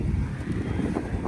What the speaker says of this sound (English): Windy.